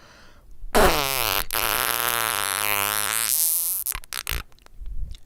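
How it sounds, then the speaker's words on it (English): A long, drawn-out fart sound rings out loud and close for about three seconds, then breaks into a few short sputtering bursts before it stops. "Doo-doo fart."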